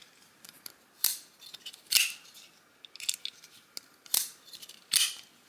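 A folding knife flipped open and shut repeatedly, giving sharp metallic snaps and clicks at irregular intervals with faint handling rattles between them, close up and without talk.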